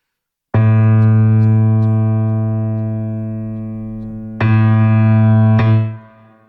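Low piano notes in the left hand: a sustained bass tone that slowly decays, then two more struck notes in quick succession near the end.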